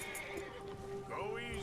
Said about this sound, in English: Meu cavalo se assustando aqui